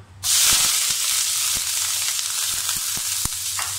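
Shrimp sambal hitting a hot oiled pan: a sudden loud sizzle bursts in and keeps hissing steadily, with faint ticks and pops scattered through it and no voices.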